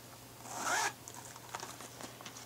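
Zipper on a Fender guitar case for an American Professional Telecaster, pulled open in one quick, fairly loud close rasp lasting about half a second, followed by faint rustling and light handling clicks.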